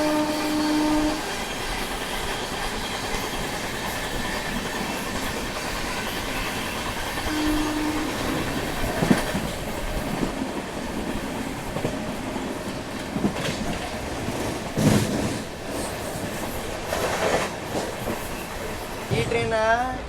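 A Rajdhani Express running from KSR Bengaluru rumbles along the track while overtaking a special train bound for Danapur, with steady wheel clatter, a few short horn blasts and squeals, and passing bursts of another train nearby.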